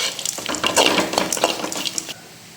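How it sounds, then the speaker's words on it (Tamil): Grated coconut being stir-fried in a pan until golden brown for coconut rice, with close, continuous scraping and stirring over a soft sizzle, busy and fairly loud for most of the clip before easing off near the end. "தேங்காய் நம்ம வதக்கத்தில் தான் இருக்குது."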